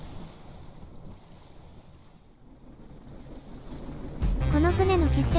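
A boat ploughing through rough ocean waves in Stormworks, with steady wind and water rush that grows into a louder, close surge of engine and splashing near the end.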